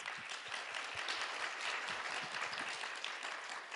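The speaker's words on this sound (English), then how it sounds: "To all the speakers, a big round of applause for them, please." An audience at an international conference panel discussion on women and peace applauds the speakers, a dense, steady round of many hands clapping that holds evenly throughout with no voices on top.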